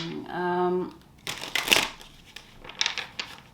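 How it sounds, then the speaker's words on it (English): Tarot cards being shuffled by hand: after a brief tonal hum, short papery bursts of riffling and soft crinkling come in uneven clusters, close and fairly quiet. "As I shuffle, Libras, I want you to bear in mind that this is a general reading."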